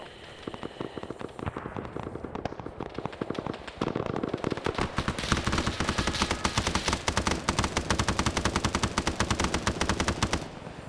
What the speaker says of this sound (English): Machine gunner just decided full auto.